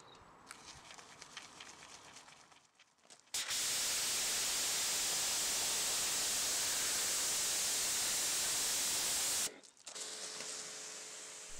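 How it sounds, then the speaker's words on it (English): A pressure washer sprays a dirty Vauxhall Corsa's paintwork to blast off loose dirt, a loud, steady broadband hiss lasting about six seconds between quieter stretches of ambient noise. "I just started by giving it a blast down to remove all the loose dirt and debris that could have been easily lifted away using the pressure washer"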